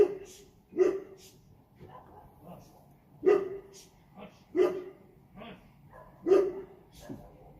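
Several short-haired dogs at a Houston tailgate bark in loud, spaced single woofs and yips, about six sharp barks over several seconds, with people talking faintly nearby.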